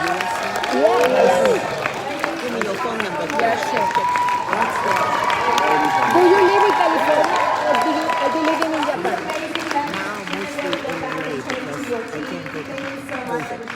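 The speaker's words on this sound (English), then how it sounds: "Give them a round of applause." An audience applauds with scattered crowd noise, a steady wash of clapping heard under someone talking loudly over it throughout.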